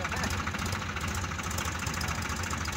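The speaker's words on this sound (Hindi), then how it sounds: "पीछे वाला ट्रैक्टर जो फंसा है वाला, इसे लेटर ही नहीं ले रहे हैं तो कैसे निकलेगा ट्रैक्टर" A Sonalika tractor stuck in place, its engine idling with a steady low, rumbling throb that runs continuously and fairly loud throughout.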